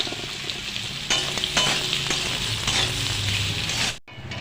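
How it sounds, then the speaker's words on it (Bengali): Soybean chunks rubbed with salt and turmeric fry in hot oil in a wok. A loud, continuous sizzle carries throughout with a few sharp stirring knocks, then it cuts off abruptly near the end. "এখন সয়াবিন ভেজে নেব।"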